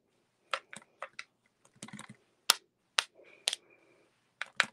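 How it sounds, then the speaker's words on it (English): A bone folder flicking watercolour paint flecks onto paper, making a series of sharp, close ticks and taps in uneven bursts, with short rubbing sounds between them. "I'm going to just come in with my bone folder. And I'm just going to put some flecks on here."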